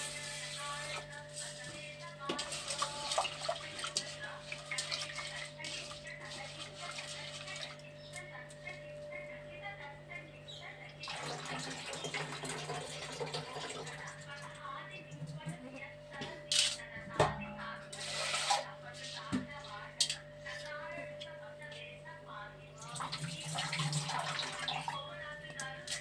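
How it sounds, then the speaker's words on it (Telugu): Lentils (dal) are rinsed by hand in a bowl of water, twice. Intermittent sloshing and splashing bursts come and go over a steady low background hum, fairly close. "ఇదైతే కడుక్కోవాలి, పప్పు 2 సార్లు కడుక్కోవాలి."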